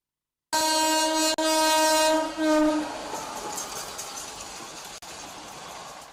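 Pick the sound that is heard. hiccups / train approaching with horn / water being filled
train approaching with horn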